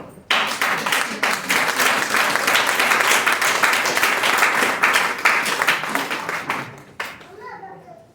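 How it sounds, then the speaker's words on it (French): A crowd at an evening business event claps steadily and loudly, a thick, even patter of many hands that holds for several seconds before stopping suddenly, with murmured voices and a voice audible around it. "Faut applaudir encore."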